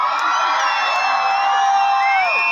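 Girls in a crowd at a Slovak village feast (Jakubovské hody) shout and cheer together, a dense, sustained high-pitched roar of voices with scattered whoops, loud and continuous throughout.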